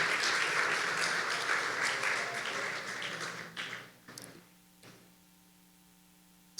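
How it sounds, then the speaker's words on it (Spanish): Congregation applause in a church service, a broad wash of clapping that fades out after about four seconds, leaving a few scattered claps and a low electrical hum. "denle un aplauso a Él"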